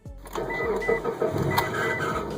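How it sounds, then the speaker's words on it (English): A failing car power steering pump makes a harsh, steady mechanical grinding whir with a rough, gritty texture, close up and continuous, with a faint low hum underneath. "Grinding noise when steering."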